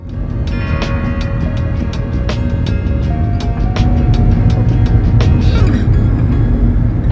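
A car cruises along a Death Valley desert road, with a steady, loud interior rumble of road and engine noise and scattered light clicks and knocks throughout.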